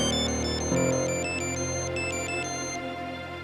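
A mobile phone ringtone plays a bright, repeating electronic melody at moderate volume, alone, with no voices over it.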